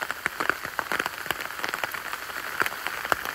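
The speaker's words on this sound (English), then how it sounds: "It really is getting heavy with that hail now." A heavy shower of hail and rain falls in a woodland, steady dense pattering with sharper pellet ticks scattered throughout, loud and enveloping, with no voices.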